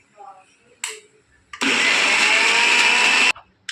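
An electric mixer grinder chops coriander leaves for banana flower vada, a loud close whirring burst lasting under two seconds that cuts off abruptly, with brief clatter and a voice before and after.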